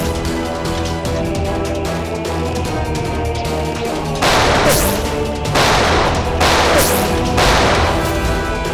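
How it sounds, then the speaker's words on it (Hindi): Gunfire erupts in a staged shootout from a CID police drama, with several loud bursts of shots and crashes following an opening stretch of tense background music, no voices in between. "कोई गोलियां नहीं चलाएगा, इसकी जरूरत भी नहीं पड़ेगी।"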